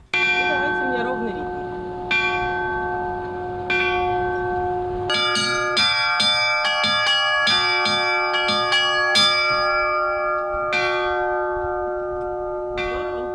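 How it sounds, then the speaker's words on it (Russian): Church bells rung by bell-ringing masters on a mobile belfry, a sustained ringing chime with many overlapping tones and rapid, repeated strikes forming a continuous loud peal throughout. "На передвижной звоннице мастера колокольного искусства не только демонстрировали свои умения, но и приобщали к перезвону желающих."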